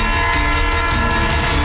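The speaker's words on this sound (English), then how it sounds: "they're honking their horn" A train horn blares steadily and loudly close by, a sustained chord over the rumble of rolling rail cars.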